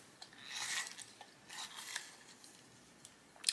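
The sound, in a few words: sharpening a burnt sienna colored pencil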